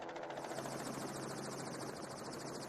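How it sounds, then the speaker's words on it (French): A helicopter flies over the Australian outback while herding kangaroos, its rotor producing a continuous, fairly distant thudding drone that stays steady throughout, with no voices. "L'hélicoptère, ça fonctionne bien."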